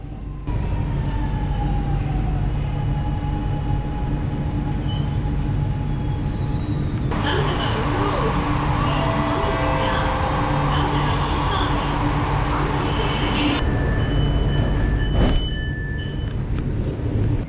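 A Chennai metro train runs between Nangainallur Road and Meenambakkam stations, a steady loud rumble with wheel squeal and whining tones that swell midway, then ease, with a brief voice faintly heard.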